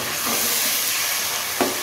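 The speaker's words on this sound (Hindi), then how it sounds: "अब मैं टमाटर डाल रही हूँ, मैंने इसमें सारे मसाले भी ऐड कर दिए हैं।" Tomatoes and spices sizzle in hot frying oil, a steady close hiss that continues throughout, with one sharp splutter near the end and no talk.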